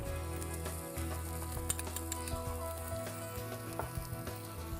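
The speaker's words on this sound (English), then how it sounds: "Now we're going to add some mustard seed" Mustard seeds hit hot oil in a pan for a Sri Lankan kiri ala curry, giving a close, steady sizzle sprinkled with small crackles and pops, with no talking.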